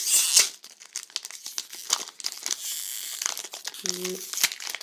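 Crinkly foil Pokémon booster pack wrappers, taped together, rustle and tear close to the microphone in short, uneven bursts, with brief soft speech in between.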